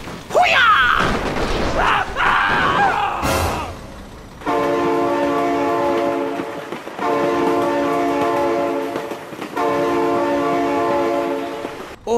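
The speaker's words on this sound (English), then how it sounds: "Oh my God, train!" A train in the BeamNG.drive driving game blares its horn in long, loud blasts with short gaps between them, after a burst of crashing noise and shouting at the start.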